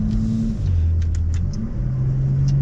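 A 2016 Porsche Macan GTS engine revs and drops, a steady low rumble with pitch shifting up and down, close and loud throughout.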